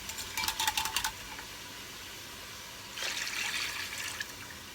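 Beef broth splashes and trickles briefly into a pot, pauses, then a second steadier stream of pouring follows, close and moderately loud.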